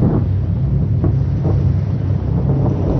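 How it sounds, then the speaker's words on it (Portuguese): A thunderstorm striking a beach at night, a dense, loud roar of wind and rumbling weather that fills the whole stretch continuously, heavy and low with buffeting gusts. "Naquela noite, a tempestade que eles tentavam evitar atingiu a praia."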